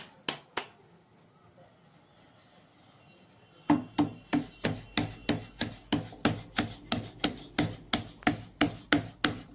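Jowar bhakri dough is patted flat by hand, first a couple of soft slaps, then after a quiet pause a fast, even rhythm of dull, close pats.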